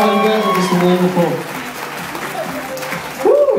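Wedding guests applaud and cheer, the clapping loud and steady at first, then easing slightly before swelling again near the end, with a voice talking over it.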